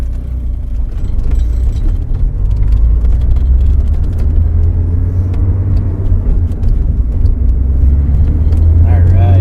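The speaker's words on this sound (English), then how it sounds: "I'm going to give it some gas and catch up to the slow cars." Porsche 944 driving on pavement with a loud, steady low engine rumble and road noise throughout, rising slightly near the end as the car is given gas; speech is tagged but no words are clearly heard.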